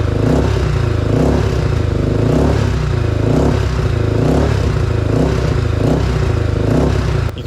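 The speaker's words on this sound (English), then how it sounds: "Here I'm just revving it with the choke on to break in the top end." A Honda 400EX ATV engine, newly rebuilt top end, revs with the choke on in a loud, close, continuous drone that rises and falls in regular rhythmic pulses without talk.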